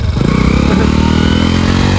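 A motorcycle engine revs hard and loud close by, stuck in desert sand at Nadabet, straining and rattling at a steady high pitch as if the wheel is spinning without moving.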